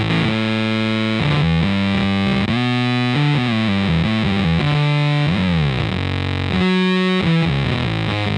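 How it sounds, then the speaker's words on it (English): Data Corrupter synth voice playing a square wave layered with a subharmonic one octave down, a loud, buzzy, distorted tone that steps through a shifting melodic line with pitch glides, continuous and alone for over eight seconds. "right now you're hearing the square wave and the subharmonic with 1 octave down at the same time"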